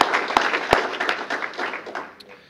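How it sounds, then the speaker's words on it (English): Audience applause at a mayor's employee recognition awards ceremony, with a short burst of many hands clapping that fades over a few seconds and a faint voice beneath. "let's have a round of applause for him"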